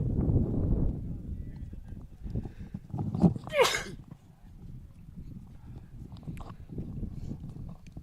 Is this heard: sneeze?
yes